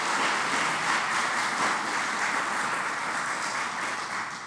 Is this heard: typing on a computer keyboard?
no